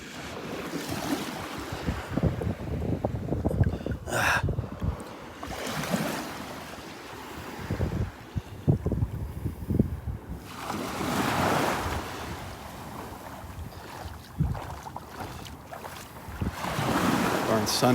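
Ocean waves break along a low sandbar ridge on a Gulf beach at Delnor-Wiggins, a steady churning surf that swells and recedes, loud and close, with gusts of wind buffeting the microphone.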